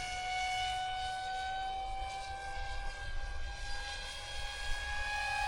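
Electric motor of an RC F-22 model jet held at full throttle, a steady high-pitched whine with a slowly rising tone over a constant airy rush, fairly faint and with no talk.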